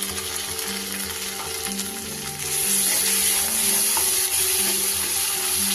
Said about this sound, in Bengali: আদা বাটাটা একটু খুব ভালো করে কষে নেব।